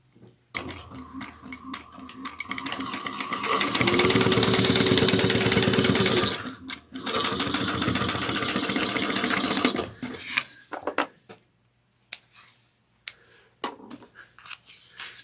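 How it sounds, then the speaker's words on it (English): Sewing machine stitching a seam on a drawstring satchel, close and loud, running in two long steady bursts of rapid needle clatter, then stopping with a few clicks and handling sounds. "we're going to sew this on using 3/8 of an inch"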